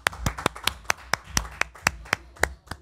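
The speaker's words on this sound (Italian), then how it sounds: "Un applauso." About a dozen sharp, evenly spaced hand claps in a steady rhythm, close and crisp, rising above a quiet background with no talking.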